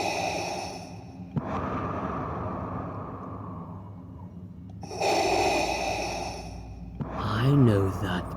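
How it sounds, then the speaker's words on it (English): Heavy breathing in a game scene: long, loud, raspy breaths with snort-like, sighing exhales, separated by pauses, followed by a short burst of vocal sound at the end. "I know that breathing."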